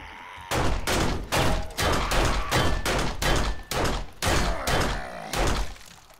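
Repeated loud gunfire from the survival video game 7 Days to Die, about a dozen sharp, evenly spaced shots in steady rhythm during a fight with a tough feral soldier, with no talking.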